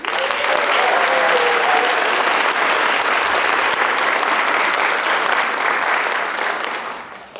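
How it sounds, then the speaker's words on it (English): A school audience at a December middle-school band concert claps loudly and steadily, a dense, even roar of hands that holds for several seconds before tapering off at the end. "So one more round of applause."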